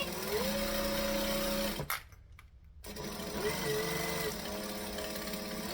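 A sewing machine runs steadily stitching a triangle bag seam, stops briefly for a second, then whirs again for the back stitch, close and continuous.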